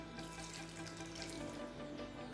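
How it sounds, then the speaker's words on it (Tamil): Half a cup of water runs steadily into a pan of bisibelebath (sambar rice) being cooked, a continuous close splashing pour heard alone with no talk. "இது கூடவே 1/2 கப் தண்ணி சேர்த்துக்கலாம்."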